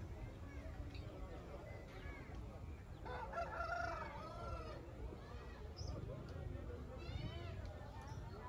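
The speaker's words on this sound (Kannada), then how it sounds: "ನಾಟಿ ಕೋಳಿ ಎಲ್ಲ ಥರ ಕೋಳಿನೂ ಇಲ್ಲಿದೆ" Country chickens and roosters at a livestock market, with repeated clucking and a rooster's crowing rising over a steady crowd murmur and people talking nearby.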